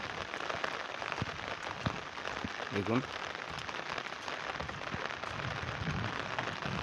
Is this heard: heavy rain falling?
yes